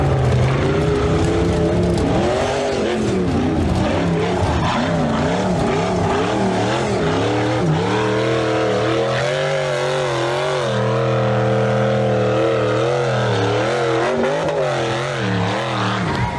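A Toyota Rush or Daihatsu Terios climbs off-road, its engine held under steady load with rising and falling revs. The vehicle stays close and loud, with no pause and no voices.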